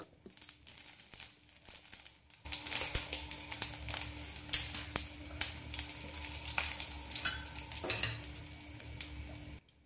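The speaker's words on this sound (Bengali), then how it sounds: "তেলটা গরম হয়ে গেছে, এবার ওর মধ্যে দিয়ে দেব পানমৌরি, তেজপাতা" Fennel seeds and bay leaves hit hot vegetable oil and sizzle steadily, a close, crackling fry that jumps louder after a quiet start and keeps spitting with small pops throughout, no voices.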